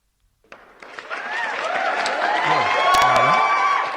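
Clapping from a group starts abruptly after a short silence and swells into full applause, mixed with sitcom-style whoops, shouts and excited exclamations that carry near and loud to the end.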